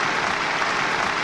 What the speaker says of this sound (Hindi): फिर एक बार तालियां।